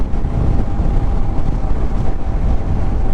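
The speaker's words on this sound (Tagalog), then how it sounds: "Lakas ng hangin." Strong wind buffeting a microphone on a roadside near a quarry in the Philippines, a loud continuous low roar and rumble with no pauses.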